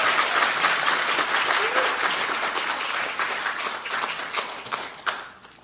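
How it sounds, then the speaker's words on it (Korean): An audience at a Korean Democratic Party event applauds as a lawmaker is introduced, dense, close clapping that holds steady and then thins out and fades over the last second. "뜨거운 박수 부탁드립니다."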